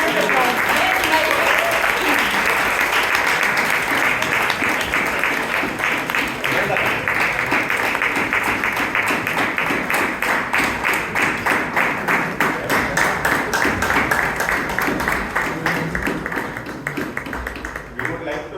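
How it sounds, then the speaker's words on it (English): Loud, sustained audience applause at a Toastmasters club debate meeting in Bangalore, dense clapping filling the room for nearly twenty seconds, with a voice speaking over it before it thins out toward the end. "Let's have a big round of applause."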